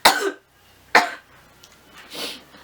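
A person coughs in two sharp, close bursts, followed by a softer, breathy cough or throat-clearing sound; no talking.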